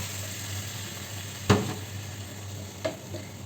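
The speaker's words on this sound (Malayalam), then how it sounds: "ഇനി നമുക്ക് ഇതിലേക്ക് വെള്ളം ഒഴിച്ചു കൊടുക്കാം കേട്ടോ വെള്ളം ചേർത്ത് കൊടുക്കുന്നുണ്ട്" Water hits spiced masala frying in a pan, hissing and sizzling steadily up close, with a couple of sharp utensil knocks and no talking.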